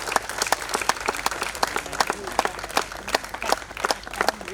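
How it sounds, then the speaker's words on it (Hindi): An audience claps for the props maker after a stage play, with moderate, steady applause and distinct individual claps standing out throughout. "उत्तम के लिए जोरदार तालियां"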